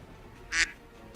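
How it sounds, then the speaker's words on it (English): A single short duck quack, clear and fairly close, against a quiet background. "That's a duck."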